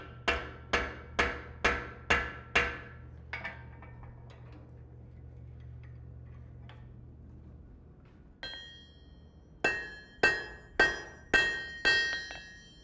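A blacksmith upsets metal in a vise at a forging conference: a steady run of ringing hammer blows on steel, a quiet pause with faint taps and a low hum, then another rhythmic series of sharp, bright strikes.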